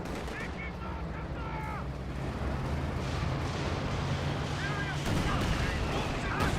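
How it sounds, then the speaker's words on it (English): Artillery barrage in the Company of Heroes 2 strategy game: a steady thunder of distant explosions and gunfire with scattered whistles of incoming shells, under a commentator's continuous talk. "Direct hit there. Just a minor, just an okay barrage."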